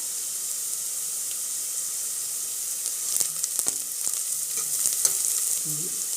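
Onions and asafoetida fry in hot oil, giving a constant soft sizzling hiss with a few brief crackles and pops near the end, and no talking.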